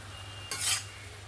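Ginger and pre-fried, washed mung dal stirred in a pan for an ash gourd ghonto, a single short scraping stir of a spatula against the pan with a faint sizzle, close and alone.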